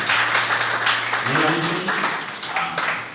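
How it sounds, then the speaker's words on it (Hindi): Applause from a gathering at a Guru Purnima festival in Vrindavan, a steady patter of clapping heard beneath someone speaking, with voices continuing over it. "जोरदार ताली इनके लिए दे देगा।"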